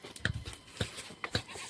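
A goat bleats in a few short, sharp bursts spaced unevenly over a couple of seconds, fairly close and clear over quiet background.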